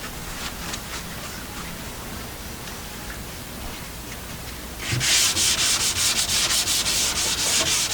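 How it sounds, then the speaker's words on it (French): Hand sanding of a wooden toy chest with fine 400-grit sandpaper for a final smoothing pass, a soft rhythmic rubbing that grows louder and steadier over the last few seconds, with no talk. "on va utiliser du 400 pour faire un ponçage final"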